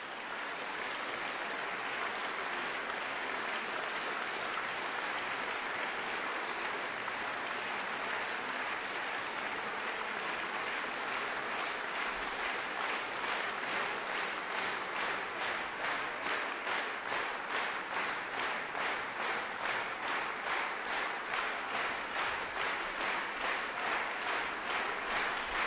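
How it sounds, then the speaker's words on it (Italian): A concert audience in a Lugano auditorium applauds after a Mozart piano sonata K.381 played four hands, with long sustained clapping that gradually turns into rhythmic unison clapping toward the end. "L'applauso"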